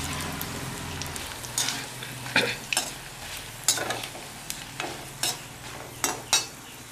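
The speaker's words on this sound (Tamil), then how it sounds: "மிளகாவும் வறுபட்டுருச்சு" Dried chilies roasting in a pan over low heat for an Onam recipe, a soft sizzle under repeated scraping stirs that come in short, close bursts, with no talking.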